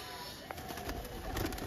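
Pigeons coo softly among the birds for sale at a pigeon market stall, with low murmuring calls and a few soft wing flutters over a quiet background hum.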